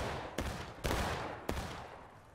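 Three sharp, fairly distant gunshots crack out in quick succession as shooters fire at a flag target outdoors, each a short burst that fades quickly.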